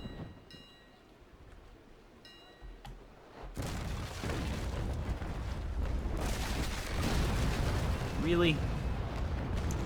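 Ship cannons fire in the Naval Action sailing game: a sudden heavy boom lands partway through and then a loud, sustained rumble of battle noise follows, with a voice speaking briefly over the quieter start.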